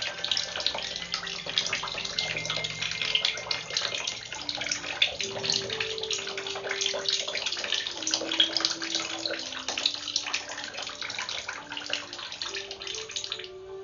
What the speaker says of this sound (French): vous le cassez et vous laissez couler l'eau à l'intérieur